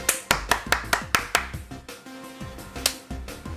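Sharp, close hand claps ring out one at a time. About eight come in an even rhythm, then a few more follow at looser intervals, with quiet room sound between them.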